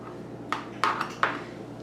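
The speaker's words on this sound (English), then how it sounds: "We're going to slice the jalapenos in half lengthwise." Knife cutting jalapeno peppers in half lengthwise on a board in a home kitchen: a few sharp, clicking knife strikes, each brief and close, spaced apart over a steady low hum.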